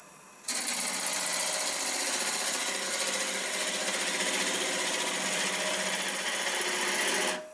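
A wood lathe spins an olive wood natural-edge bowl while a gouge cuts across it, giving a steady, dense, continuous shearing hiss with a constant motor hum, close and unbroken for several seconds.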